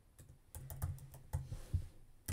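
Close, quiet typing on a computer keyboard, an uneven run of clicks and thumps from individual keypresses with a heavier key strike at the very end.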